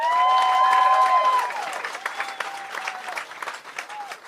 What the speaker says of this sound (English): give yourselves a round of applause coming out supporting live comedy on a Wednesday night